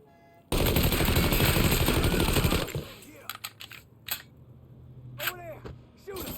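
Gunfire in Mafia 3 opens with a loud, sustained automatic burst lasting about two seconds, followed by scattered single shots and mechanical clacks.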